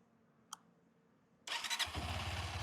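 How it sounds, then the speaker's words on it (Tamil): A Honda 160cc motorcycle engine fires up abruptly after a quiet moment, then settles into a loud, steady, throbbing exhaust note at around 2000 RPM, close to the listener. "இந்த இன்ஜினோட எக்ஸாஸ்ட் நோட் எப்படி இருக்குன்னு கேட்போமா?"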